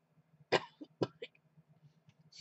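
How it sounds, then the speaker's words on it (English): Two sharp coughs close to the mic, followed by a few softer throat-clearing sounds and quiet breathy noises. "Excuse me with this cough."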